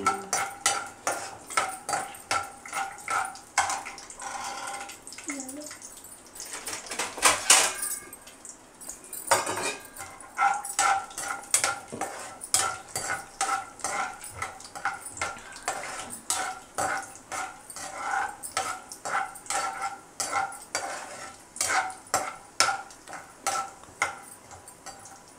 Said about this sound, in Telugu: ఇప్పుడు ముందుగా మనం వేరుశనగ గుళ్ళు వేయించుకోవాలి.